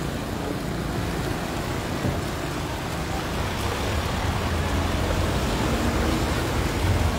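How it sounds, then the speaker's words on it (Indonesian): Floodwater rushes strongly through a deep hole at Panei Tongah, Simalungun, giving a dense, steady, close roar of churning water without voices. "di sini airnya deras dan lubangnya cukup dalam"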